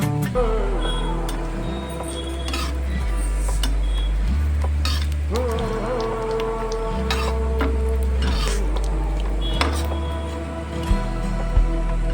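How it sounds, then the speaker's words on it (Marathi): Dry coconut roasting in hot oil on a tava for chicken rassa, with steady metal scraping and clinking of a spatula against the pan, a low background hum and faint sizzle throughout, no talk. "नॉर्मली तेल गरम झालं की आपल्याला त्यामध्ये सुके खोबरे भाजून घ्यायचे आहे"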